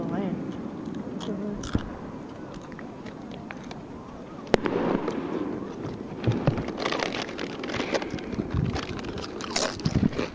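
Fourth of July fireworks bursting near a shoreline, booms and crackles scattered over several seconds, heard from a distance beneath steady chatter from onlookers.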